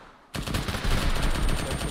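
Sustained automatic gunfire in a military tactical video game erupts suddenly after a short quiet lead-in, then rattles on loud and close in rapid, continuous bursts with no pause.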